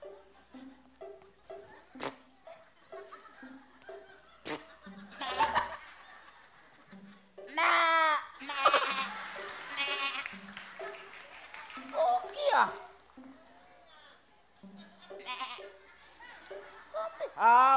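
A man imitates goat bleating with wavering, nasal calls on a television variety show, mixed with talk, laughter and a burst of applause in the background.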